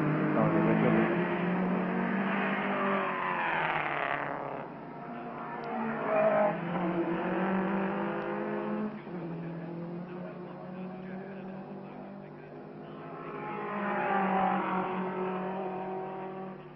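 Racing cars, Lotus among them, circle a circuit during a Glover Trophy race, their engines roaring loud and steady as cars sweep past one after another with rising and falling swells.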